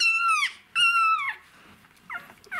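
Newborn male wolfdog puppy whimpering close up in two long, high, wavering cries, followed by two shorter, fainter whines.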